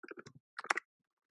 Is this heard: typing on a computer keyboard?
yes